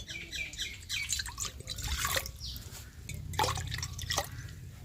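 One and a half bowls of water are poured from a measuring bowl into a pot, making close splashing and gurgling in uneven bursts.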